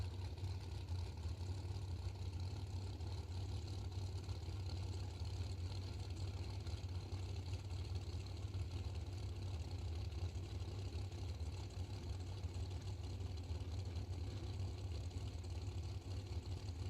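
A drag racing car idles at the staging lanes of a drag strip, a steady deep rumble holding constant and fairly loud throughout, with no talk over it.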